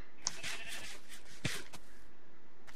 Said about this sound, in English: Oh, poor sheep. Stuck down there.